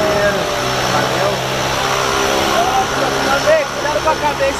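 Skydiving aircraft engine drones steadily inside the cabin as the plane climbs toward 4,000 metres, a constant loud propeller hum with people talking over it.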